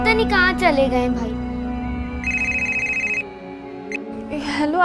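A telephone rings in a tense hospital-emergency drama scene, a repeated electronic trill standing out for about a second amid continuous background music and ambience.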